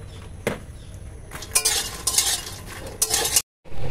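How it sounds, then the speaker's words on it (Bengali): Makhana (fox nuts) dry-roasting in a pan, heard as a rattling, scraping stir with light clinks of utensil on metal in bursts, close by, before a brief cut to silence. "এবার ভেজে নেব মাখনা"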